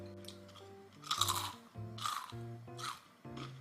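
Crisp, crackly crunches of air-fried chicken coated in brown rice crumbs instead of breadcrumbs come in about four distinct bites, fairly close, over soft steady background music.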